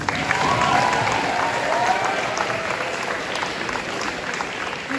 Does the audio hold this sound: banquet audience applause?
yes